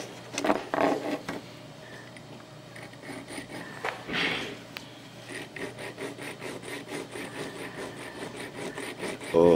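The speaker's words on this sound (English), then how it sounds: "So I'm going to tediously work at sawing this in half." Slow, rasping mini hacksaw strokes grind back and forth through wood, close up and fairly steady, with a few louder scrapes and knocks along the way.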